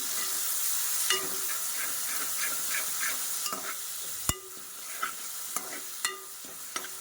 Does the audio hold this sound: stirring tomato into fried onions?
yes